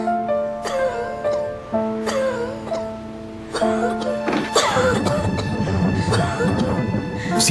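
A child coughs several times over a gentle tonal musical background, the coughs growing rougher and clustered toward the end, close and clear.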